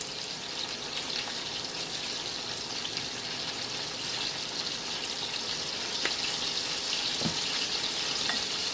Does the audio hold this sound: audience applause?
no